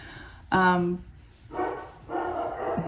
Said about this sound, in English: I did pause it because my dogs are freaking out